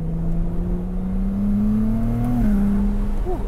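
A Ferrari 296 GTS hybrid engine drones under light throttle, its tone rising slowly then dropping, heard from inside the car as a loud, steady whir with no talk.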